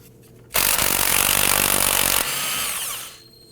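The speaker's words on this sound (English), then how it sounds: "Using a 13mm socket, let's go ahead and loosen and remove the axle nut." Power tool driving a 13mm socket to loosen the axle nut on a 2001-2009 Volvo S60, a loud continuous whir lasting about two seconds that drops in pitch and fades, with no talking.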